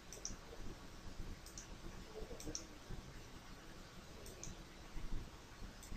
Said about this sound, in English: I just right click and duplicate slide until there's 12 of them